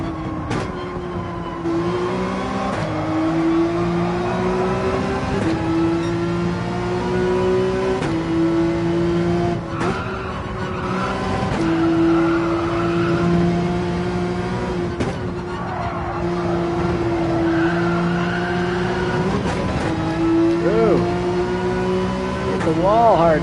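Race car engines in the Gran Turismo 7 racing game, a continuous high revving drone that climbs and drops through gear shifts with occasional tire squeal, under steady talk from a commentator.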